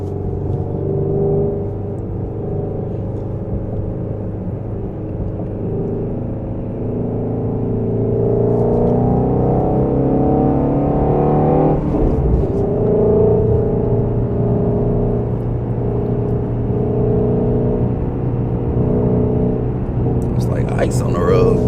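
Ford Mustang GT350 heard from inside as it gets onto the freeway on a slick road, its engine droning steadily and building in pitch as it speeds up, with a person talking over it.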